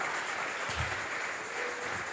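A church congregation applauds in worship, a steady broadband patter of many hands clapping together that holds at an even level throughout, with no speech over it.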